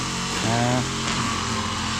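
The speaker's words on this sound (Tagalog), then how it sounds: "Yun o, may nag-grass cutter." A grass cutter runs outdoors near a building construction site, a steady buzzing motor drone heard fairly close under people talking.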